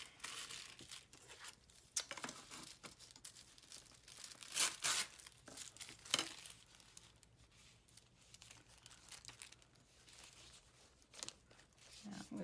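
Tissue paper is torn by hand in short crinkly rips close up, a few louder tearing bursts standing out from quieter rustling and handling of the paper.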